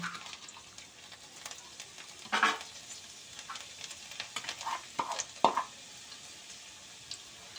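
Finely chopped garlic fries in hot oil in a kadai, a soft low sizzle broken by a few sharper spatters and scraping stirs, fairly quiet and close.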